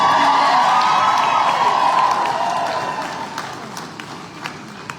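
A large audience at a product launch event yells, whoops and cheers loudly, a dense roar of crowd noise that gradually fades over a few seconds.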